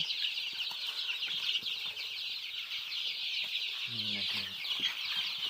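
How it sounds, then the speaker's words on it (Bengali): A crowd of about a hundred 35-day-old chicken chicks chirps continuously in a dense, high-pitched twittering chorus, with a brief low cluck partway through. "এখানে একশোটা মুরগি বাচ্চা আছে সব একসাথে আছে"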